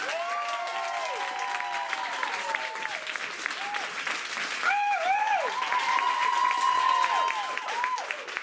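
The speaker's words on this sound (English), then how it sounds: "Give them a round of applause." An audience at a class showcase applauds steadily for several seconds, with dense clapping and a few high whoops and cheers rising over it.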